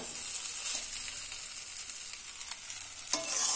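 Vegetable chili chow mein is stir-fried in a pan, giving a continuous close sizzle with scraping stir noises and a sharper clack near the end.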